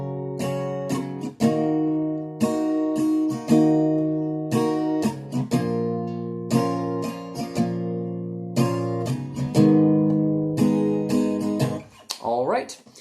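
An acoustic guitar plays the intro and verse of a song with a down-down-up-down strumming pattern. The chords are close and bright, with short pauses between phrases, and a brief scrape near the end.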